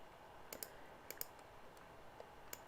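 Several sharp, quiet computer mouse clicks, some in quick pairs, spaced irregularly over low room hiss with no talking.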